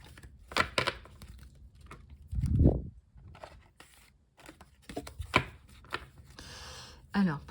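Tarot cards shuffled by hand in a quiet room, giving a few soft, separate riffles and slaps with pauses between them, plus a brief low thump partway through.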